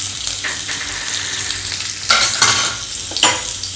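Chopped ginger and garlic fry in hot oil in a pan, a loud continuous sizzle with bursts of crackle as the pieces are stirred and tossed, no voices present.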